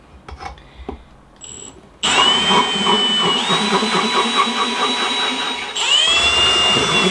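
An electric drill bores into a marble bonsai pot submerged in water, starting with a few faint knocks, then a loud steady high-pitched grinding whine that shifts pitch slightly midway and surges again near the end.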